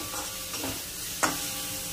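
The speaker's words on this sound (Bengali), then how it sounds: "আবারও ভালো করে মশলাটাকে ভালো করে কষিয়ে নেব বন্ধুরা" Spice paste fries softly in a pan for a raw fish curry, with a quiet continuous sizzle and a few distinct scraping strokes of a spatula, one sharper scrape standing out; no voices are heard.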